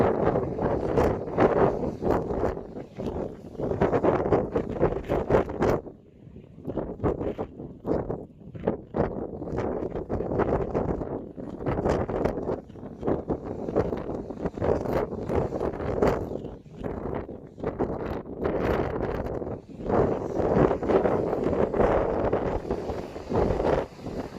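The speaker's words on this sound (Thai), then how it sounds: "ลมแรงจริง ๆ อยู่ติดทะเลนะคะ ติดทะเลด้วยลมแรงด้วยนะคะ" Strong gusty wind by the sea at Skara Brae, Scotland, roars and buffets the microphone for a long stretch, rising and falling in heavy bursts with brief lulls.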